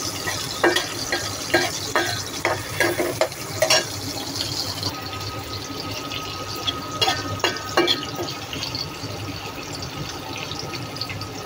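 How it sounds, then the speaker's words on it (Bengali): Onions and tomatoes fry in a pan with a constant close hiss and wet sizzle, broken by a few sharper scraping or stirring clatters early on. "পেঁয়াজ দিয়ে দিচ্ছি। সাথে টমেটোগুলো দিয়ে দিচ্ছি।"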